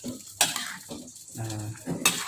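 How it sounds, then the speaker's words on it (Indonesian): A spoon scrapes and clinks against a cooking pot while sayur asem, a sour Indonesian vegetable soup, is stirred. There are a few short clatters and some soft sloshing. "Kita aduk."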